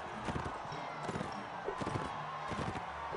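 Horse hooves clip-clopping in Mount and Blade, a steady rapid galloping rhythm at moderate distance, fairly quiet, with a brief whinny-like cry.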